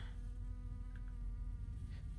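Pixel flies in the Last Bus Home video game give off a steady, close insect buzz with a low droning hum, continuous and even throughout with no talk.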